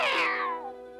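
A cartoon cat gives a single drawn-out meow that starts high and bright and slides downward. The meow is close and clear, with a tonal tail that fades over about a second.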